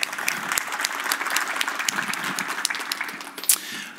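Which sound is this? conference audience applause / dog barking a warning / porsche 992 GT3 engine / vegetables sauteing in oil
conference audience applause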